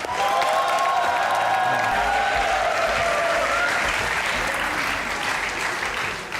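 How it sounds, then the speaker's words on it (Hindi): Enthusiastic applause from a crowd, dense and loud, sustained for several seconds with a few whoops mixed in. "और दिन आपकी भरपूर तालियों में ज़रनिश खान।"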